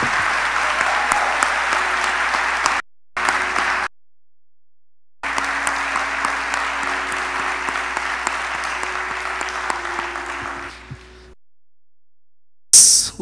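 Church congregation applauding during a Sunday morning service, dense steady clapping filling the room in sustained bursts separated by short silent gaps, with a brief loud burst near the end.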